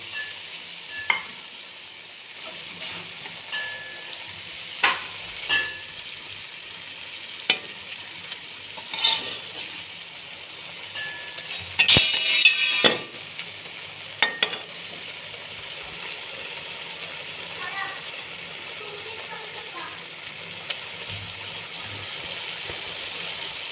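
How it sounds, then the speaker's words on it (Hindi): Chicken and vegetables stir-fry in a pan as soy sauce is added, a soft continuous sizzle broken by sharp scraping and clanking stirs, including a louder burst of clatter near the middle. "ये आधा कप का सोया सॉस का अब हम इसमें डालेंगे।"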